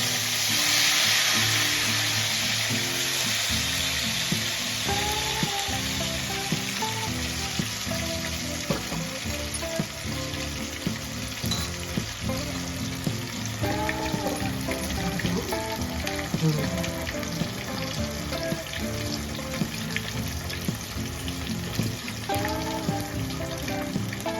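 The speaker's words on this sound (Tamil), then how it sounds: "பொரிச்சு எடுத்துறேன்." Chicken pieces frying in hot oil, a steady dense sizzle with bubbling and occasional stirring, close and continuous for the whole stretch without talk.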